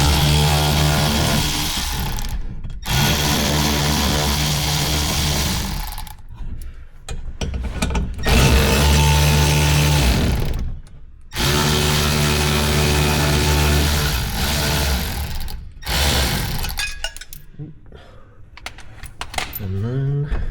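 A ratcheting socket wrench with a 7mm socket buzzes in loud bursts with short pauses while backing out two bracket screws holding a cover on a Ford Mustang.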